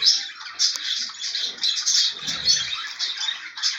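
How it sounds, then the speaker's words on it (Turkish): A pet bird, a female in a nest box, gives continuous high chirping and twittering at moderate loudness, with faint rustling beneath and no voices. "Kuşumuz bu da dişi."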